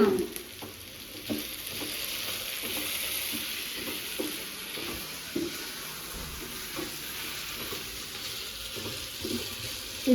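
Food frying in a pan until light brown, a continuous sizzle with intermittent stirring scrapes and a faint running-water sound in the background, no talk.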